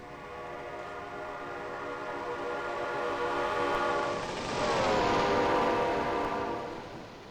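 E8A diesel locomotive in Train Simulator Classic heard from a distance, a steady rumbling train sound with horn-like harmonic tones swelling as it draws nearer and passes at speed near 100 mph.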